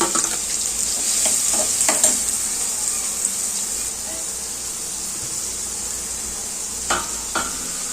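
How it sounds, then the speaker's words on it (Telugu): Sliced onions and green chillies with a pinch of salt fry in hot oil for a radish, chana dal and coconut curry, giving a steady bright hiss with a few sharp stirring clicks and scrapes, close and continuous. "ఆయిల్ వేడెక్కిందండి మనం ముందుగా ఉల్లిపాయలు పచ్చిమిర్చి వేసుకున్నామండి"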